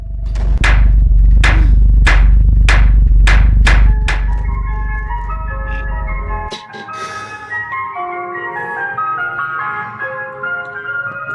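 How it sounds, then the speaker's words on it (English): Loud, close thumping knocks in a steady series give way to a looping electronic chime melody, likely an ice cream van's jingle heard from outside a house, continuing on its own with no one talking. "there's an ice cream van outside my house right now"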